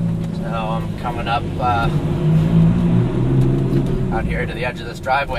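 Lamborghini Gallardo engine rumbling low and steady while the car moves slowly at the edge of a driveway at night, swelling slightly midway, with someone talking over it throughout.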